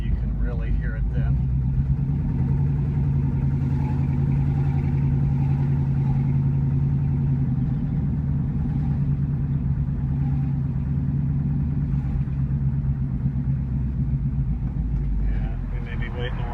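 Ford 289 V8 with an engine knock, driven on a road with a steady low rumbling drone and a faint tapping layered in, held at a constant level throughout.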